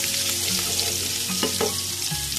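Frying in a pan during preparation of Rampuri yakhni pulao produces a loud, continuous close-up sizzle, with a few brief clinks and shifts of tongs moving the food.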